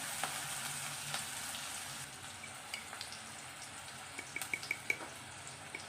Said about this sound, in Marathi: आता कांदा लालसर तांबूस रंगावर येईपर्यंत आपल्याला भाजून घ्यायचं आहे